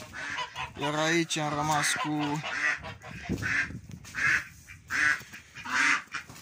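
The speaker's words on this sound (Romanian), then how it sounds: "cu gâștele crețe și cu rațele românești" Curly-feathered geese and Romanian ducks honk and quack in repeated loud calls at close range, interleaved with someone talking.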